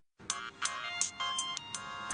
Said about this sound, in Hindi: अरे ये भी कोई वक्त है फोन आने का?